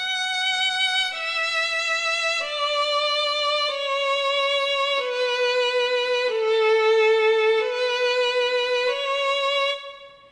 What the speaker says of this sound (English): One of the most famous pieces composed in the Baroque period was Pachelbel's Canon in D.